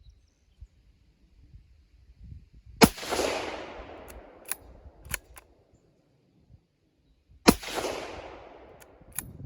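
Two sharp, loud shots from a Ruger American .243 hunting rifle, each a crack with a decaying echo, spaced several seconds apart outdoors, with faint clicks and handling noises between them.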